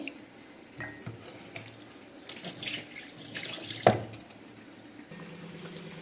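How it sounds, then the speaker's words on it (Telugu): Tap water runs into a sink while country chicken meat is rinsed, a soft steady splashing stream with faint clinks and handling noises, quiet and close. "దీన్ని అయితే నీళ్లు పోసి కడిగే శుభ్రంగా కడుక్కోవాలన్నమాట"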